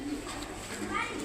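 A brown-throated pigeon gives a brief, soft coo at a pigeon market, faint and close, with a voice audible faintly in the background.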